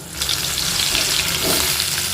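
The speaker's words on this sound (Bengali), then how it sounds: "ফুলকপিগুলোকে একটু ভেজে নেব লাল লাল করে" Pieces of steamed cauliflower frying in hot oil until reddish, a steady close sizzle with a burst of crackle partway through, no talking.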